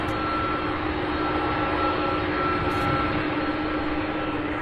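A Boeing 767 jet idles on the taxiway at Louisville airport, a steady distant engine whine and roar with a faint tonal hum, unchanging across the stretch.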